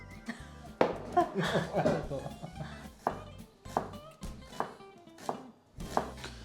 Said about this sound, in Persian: منم پیاز رو خورد میکنم